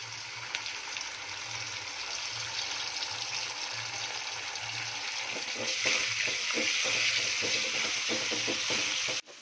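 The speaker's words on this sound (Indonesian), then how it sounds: "Kalau udah harum seperti ini, kita masukin bumbu instan rawonnya" Instant rawon spice paste sizzles in a hot pan over fried shallots and garlic, a steady close frying hiss that grows busier with scraping stir strokes in the second half; no one speaks.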